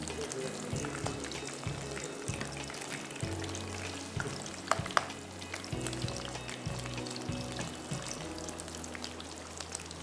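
Batter-coated prawns frying in hot oil in a handi for prawn tempura, a steady close crackling hiss with watery bubbling and occasional sharper pops throughout.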